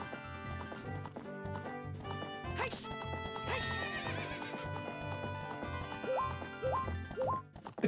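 A horse neighs and whinnies over steady clip-clopping hooves in the Spaceworld '97 beta of the Ocarina of Time video game, set against tonal game music with rising melodic figures near the end.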